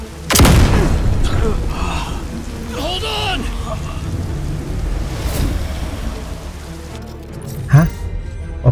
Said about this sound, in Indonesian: Granat.